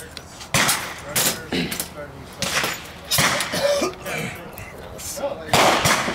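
Several sharp rifle reports from Mosin-Nagant M91/30 rifles, regular and sniper models, fired at an outdoor range, arriving as loud cracks spaced about a second apart, with people talking in between.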